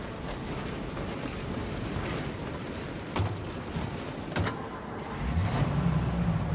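A car drives in Mafia: Definitive Edition, its engine a steady rumbling hum with a few sharp knocks and thumps, then a rising low growl toward the end.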